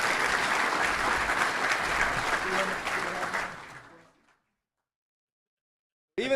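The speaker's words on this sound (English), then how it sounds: "Let's give a round of applause to all those amazing sponsors." Crowd at a touchdown club luncheon in a stadium venue applauding sponsors, a full, even wash of clapping that fades out and cuts to silence, followed by a brief burst of a voice speaking at the very end.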